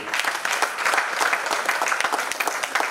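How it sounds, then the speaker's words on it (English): Audience at a Town Planners Day event claps in a lively, slightly uneven patter, individual claps standing out within the steady applause of a modest crowd. "please give a round of applause to yourself"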